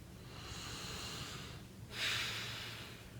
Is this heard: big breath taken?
yes